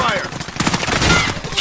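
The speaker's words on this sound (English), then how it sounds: "I'm getting shot at from green. Taking shots here. I'm under fire." Rapid bursts of gunfire in a Call of Duty match, dense crackling shots layered over game ambience with a voice talking intermittently underneath.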